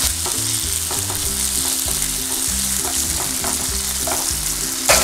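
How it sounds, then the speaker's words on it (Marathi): Sautéed onions with a crushed green chilli and garlic mixture sizzle loudly in a pan while a spoon stirs them in a steady repeating rhythm, with a louder scrape at the end, for Maharashtrian vangyache bharit. "आता आपण यामध्ये घालूया मिरची आणि लसूणची जे कुटलं होतं ते मिश्रण घालूया"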